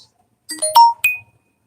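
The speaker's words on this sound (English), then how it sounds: "And my notification just went off." A phone plays a short notification chime of a few bright tones, clear and close against silence, with no talk over it.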